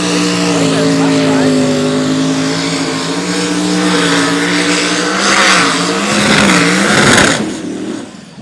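Turbocharged pulling tractor Swedish Iron Toy making a run at a European tractor pulling event in Füchtorf, a loud sustained engine roar climbing in pitch and surging toward the end before dropping off.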